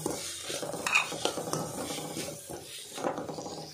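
Vegetables, including capsicum and cabbage, are stir-fried in a pan for prawn fried rice, giving a steady close sizzle with repeated scraping and stirring clatter. No talking.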